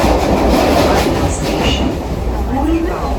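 Passenger train travelling to Dadar, heard from inside: a loud, continuous rumble with rhythmic wheel clatter and a brief high squeal near the end.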